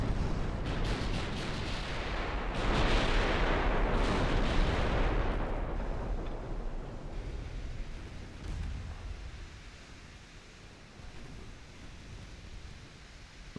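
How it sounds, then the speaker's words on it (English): Naval secondary guns fire in the warship battle game Ultimate Admiral: Dreadnoughts, a dense, booming barrage of overlapping blasts that rolls on loudly for several seconds before fading into a lower rumble. "Secondary guns on Fargo, which is now the closest one."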